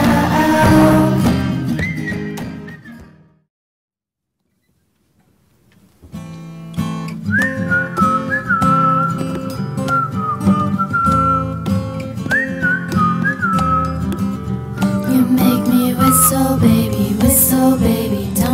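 A person whistles a bouncy melodic tune over backing music, which drops to near silence briefly before the whistling and music resume.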